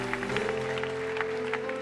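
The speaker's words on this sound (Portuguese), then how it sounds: "Dê uma salva de palmas para Jesus." A church congregation claps steadily in sustained applause with a faint tone lingering underneath, moderately loud and even throughout.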